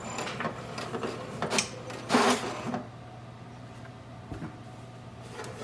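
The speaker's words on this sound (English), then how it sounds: "Select the second option, Align Printheads, and print the alignment page" An HP DeskJet 4200 printer prints a printhead alignment page, giving a few loud mechanical bursts and carriage shuffles over a steady low motor hum, with the loudest pass in the middle and quieter clicks near the end.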